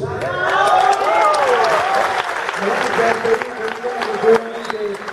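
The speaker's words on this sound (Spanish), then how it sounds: "Se agradece a ustedes haber estado y al cálido aplauso" Concert audience at Teatro Coliseo applauding steadily and fairly loudly throughout, a dense wash of clapping with a sustained tonal hum from the stage underneath.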